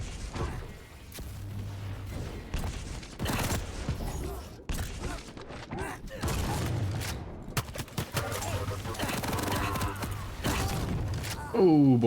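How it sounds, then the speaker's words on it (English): Rapid gunfire from the starting machine gun in the arena shooter Quake Champions, bursts of shots rattling across a busy match mixed with other game effects and a commentator talking over the action. "Not even a heavy machine gun, he's just got the starting machine gun."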